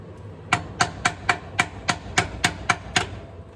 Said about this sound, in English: I'm using just some old crappy hammer I've got